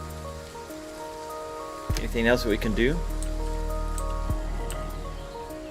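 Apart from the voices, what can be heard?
rain in the video game Endzone - A World Apart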